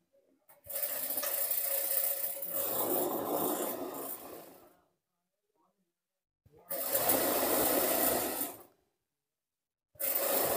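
A sewing machine runs in three sustained bursts, stitching pajama seams, with loud, steady whirring broken by short silent pauses.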